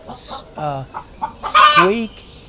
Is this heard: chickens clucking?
yes